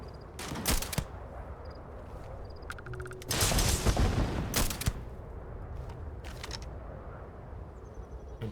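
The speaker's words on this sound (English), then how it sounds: "I will shoot all of you that stick your heads out." Gunfire in Starfield comes as sharp, scattered shots and a longer noisy burst in the middle, followed by a few more isolated cracks against a steady game background.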